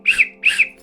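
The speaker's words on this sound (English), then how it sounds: "3 blasts on the whistle" A little brass guard's whistle on a railway platform gives two short, shrill, warbling blasts in quick succession, loud and close.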